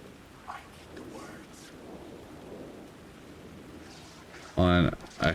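Steady rain and a low rumble of thunder in the Alan Wake II video game, a soft wash of falling water with a brief swell of thunder, ending in a short burst of voice.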